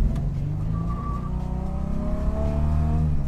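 A Chevrolet Chevette fitted with an American-built 4.3-litre V6 engine, the kind used in the S10 and Blazer, revs and accelerates with a steady, loud, rising engine drone heard close up and alone.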